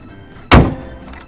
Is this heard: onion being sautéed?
no